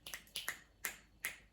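Five crisp finger snaps, sharp and close, in an irregular rhythm of pairs and singles with brief quiet gaps between them, no voices.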